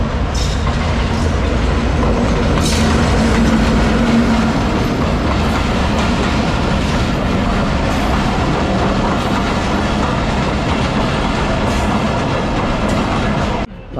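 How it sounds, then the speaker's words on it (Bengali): A passenger train approaches near the Malibagh rail gate in Dhaka, its loud, continuous rumble and clattering wheels filling the whole stretch close by. "একটা যাত্রীবাহী ট্রেন হুইসেল বাজিয়ে চলে আসতেছে"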